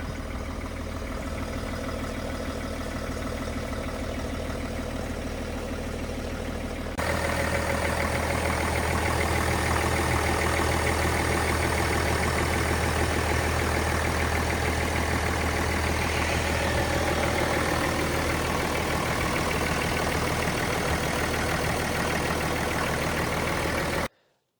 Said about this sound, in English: The car definitely has a coarser idle sound. It's more like a diesel truck now.